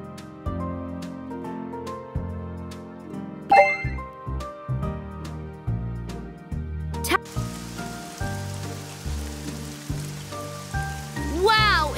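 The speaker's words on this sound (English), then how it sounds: "Wow, it's really raining out there." Steady rain in a PAW Patrol video game patters over cheerful game music with melodic chimes, a soft continuous hiss of falling drops beneath the tune.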